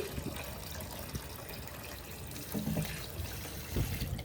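Water runs steadily in a kitchen to soak tilapia fish, a faint continuous splash with a few soft knocks and clunks near the end.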